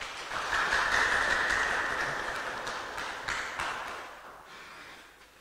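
Conference audience at the National Cohesion and Integration Week gives a round of hand clapping, a broad crowd applause that swells at the start then gradually fades over several seconds, with a ringing tone running beneath it.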